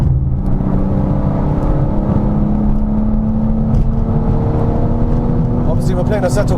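A BMW M4 Competition G82 in Frozen White, driven in the racing game Assetto Corsa, holds a steady loud engine drone with a slowly rising tone as it accelerates, continuous throughout with faint voices underneath.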